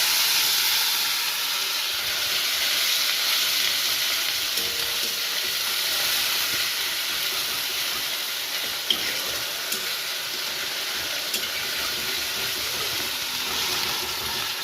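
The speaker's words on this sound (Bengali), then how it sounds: "দেখতেই পাচ্ছেন আমরা পেঁয়াজটা ভাজা করছি" Onion paste sizzles steadily in hot oil in a pan, a loud, even frying hiss with faint stirring scrapes throughout.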